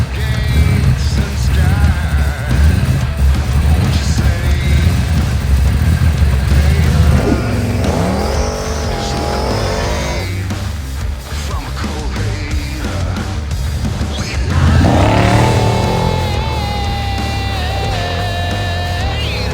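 A 1000 hp drag car engine, built from a barn find, roars loud and close in a continuous rumble that sweeps up and down as the revs rise and fall.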